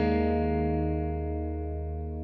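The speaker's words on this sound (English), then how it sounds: "And this is our primary reverb." An electric guitar chord played through a Line 6 Helix AC30 amp patch with its primary reverb rings out loud and close, sustaining evenly and slowly fading with a reverberant tail.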